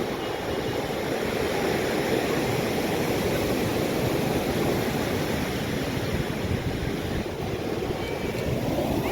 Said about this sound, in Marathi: पुरीचा हा गोल्डन बीचचा तुम्ही नजारा बघू शकता लाटा किती वाजत